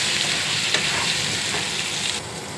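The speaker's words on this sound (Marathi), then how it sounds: "आता हा मिक्स करून घेतो" Potatoes with salt and turmeric sizzle in a pan, a continuous loud frying hiss with a couple of soft stirring scrapes, no talking.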